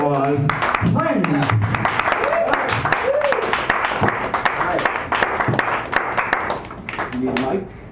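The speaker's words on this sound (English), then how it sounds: "let's give them a big round, sacred round, warm applause" Warm applause from a small audience at a Sacred Grounds Cafe open mic night in San Francisco, lively clapping throughout with voices talking and calling out over it, dipping briefly near the end.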